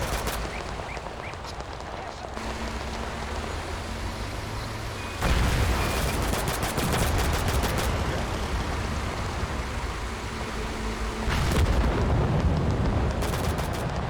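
Infantry firing in the war video game Total Conflict: Resistance: dense bursts of gunfire and rattling shots, growing louder in two surges with distant booms and vehicle rumble, heavy and continuous.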